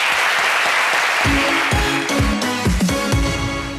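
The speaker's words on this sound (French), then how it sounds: "On le reçoit tout de suite sous vos applaudissements, cher public." A television studio audience claps loudly and steadily, then upbeat music with a heavy thumping beat comes in under the applause for the rest of the stretch.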